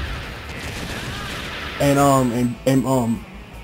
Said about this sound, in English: down and up or down A shoots a stream of bullets going down